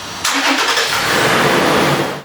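A fifth-generation Toyota 4Runner engine cranks and fires up after a serpentine belt replacement, catching quickly into a steady, loud running roar that holds for about two seconds before cutting off, with no talking.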